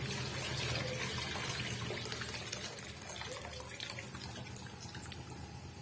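Water pours steadily into a pot of tomato tamarind rasam, a continuous close splashing and trickling that lasts the whole stretch and eases slightly toward the end, with no voices.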